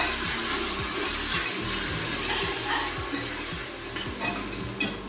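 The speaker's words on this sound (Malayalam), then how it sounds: "നന്നായിട്ട് മിക്സ് ചെയ്ത് കൊടുക്കണം" Onion and tomato are stirred as they fry in a pan for an egg biryani, with a constant sizzle and a steady rhythm of spoon scrapes repeating close up, alone without talk.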